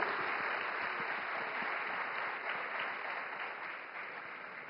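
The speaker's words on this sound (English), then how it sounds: "Please, a round of applause for all of them." Audience applause at the WAVES 2025 Form to Frame summit, a dense steady wash of many hands clapping that holds loud for several seconds and tapers slightly at the end.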